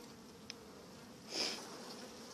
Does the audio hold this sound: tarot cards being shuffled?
no